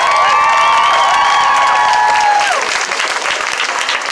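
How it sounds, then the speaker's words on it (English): A crowd at a march for justice for Breonna Taylor applauds loudly with cheers and whistles, sustained clapping filling the space and a few high shouts rising over it. "Make some noise for C1, y'all."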